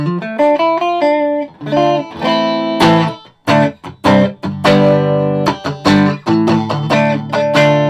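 A distorted electric guitar through a Vox AC15 modelling amp set crunchy plays a lively riff of chords and notes, crunchy and loud, with short pauses between phrases.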